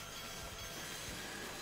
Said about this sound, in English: Some trains coming.